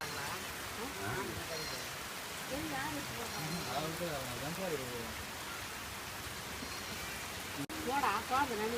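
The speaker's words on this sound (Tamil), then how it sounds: "மழை வருதுங்க" Rain pours steadily outdoors at a roadside street-food stall, a dense continuous hiss under overlapping chatter from nearby voices, with a brief clatter near the end.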